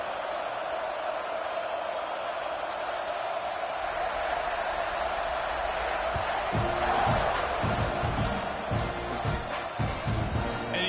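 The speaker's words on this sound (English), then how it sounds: "this crowd is feeling themselves after that last drive" Football stadium crowd cheering after a drive and turnover, a broad sustained roar that swells louder midway with scattered claps and shouts, heard from within the stands.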